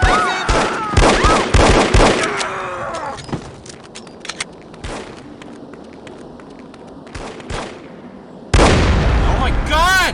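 Gunfire in the video game No One Lives Forever: a rapid cluster of sharp shots in the first couple of seconds, then scattered quieter pops, with a voice talking over it and another loud burst near the end.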